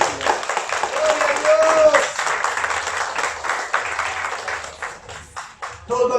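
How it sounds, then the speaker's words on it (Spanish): Church congregation clapping together in a steady, sustained burst of applause, mixed with voices and shouts in a reverberant hall. "Démosle un aplauso al Rey de Reyes."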